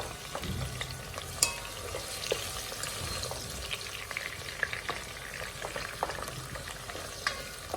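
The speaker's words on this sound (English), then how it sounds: "So we are going to stir this" A pot of okra stew with salted fish is stirred, with soft sizzling, occasional scrapes and light clinks of the spoon against the pot, close and quiet, with no talking.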